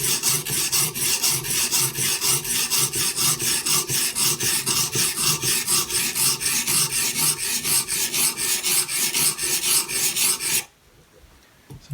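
A Benchmade Bushcrafter 162 knife blade stroked steadily across the stone of a Hapstone guided sharpener, a loud, close, rhythmic rasping repeated many times without pause, ending abruptly near the end and leaving near silence.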